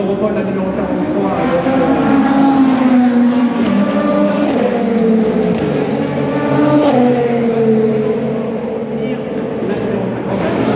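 At the Le Mans 24 Hours, the Inter Europol race car number 43 goes by with a loud engine whose pitch rises and falls through gear changes, heard under a commentator's continuous talk.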